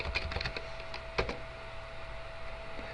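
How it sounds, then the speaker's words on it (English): Close, quiet keystrokes on a computer keyboard during entry into an SPSS data column: a short scattered run of taps, then a firmer single press like the Enter key, and near silence afterward. "type the word student and hit enter"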